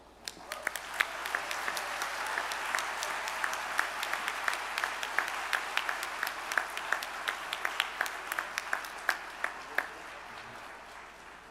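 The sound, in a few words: audience applause for the Brian Sand Quartet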